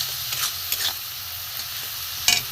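Spice masala frying in a pan on a gas stove gives a soft continuous sizzle, with a few brief spoon scrapes and clinks as it is stirred.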